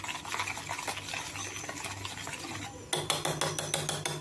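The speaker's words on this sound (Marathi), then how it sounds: "इनो टाकल्यानंतर छान आपल्याला घुसळणीने फिरवून घ्यायचं आहे" A hand churner whisks rava dhokla batter mixed with Eno in quick, rhythmic wet swishes and scrapes against the bowl, growing louder and faster toward the end, close by and with no talking.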